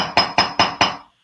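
Metal being hammered for a repoussé dove brooch: four sharp, ringing strikes in an even rhythm, loud and close, each one decaying quickly before the next.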